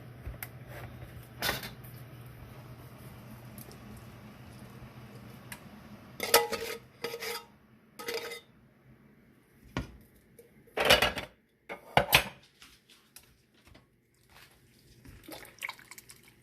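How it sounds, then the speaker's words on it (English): Homestyle corn relish is stirred in a pot with scattered clinks and scrapes of a utensil against the metal, soft wet churning between bursts, close and quiet with no talk. "And right now all I'm doing is just stirring it up."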